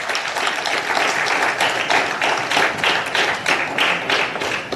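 A large audience at a coding and innovation hackathon event gives a loud, sustained round of applause, with dense continuous clapping throughout.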